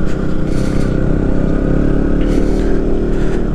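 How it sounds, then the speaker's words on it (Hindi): An off-road motorcycle ride on a mountain trail, a Duke 125 following an older FZ 150, with a loud, continuous engine drone and rumble, steady clatter over rough ground and a few brief scrapes. "और ये जो आगे बाइक चल रही है, ये है FZ 150, पुराना वाला मॉडल"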